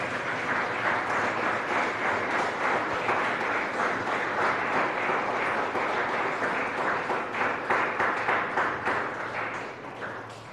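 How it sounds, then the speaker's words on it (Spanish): A church congregation at a Sunday service claps loudly and continuously, a thick wash of hands that holds for several seconds before easing off at the close. "¿Cuánto le dan un aplauso al Todopoderoso?"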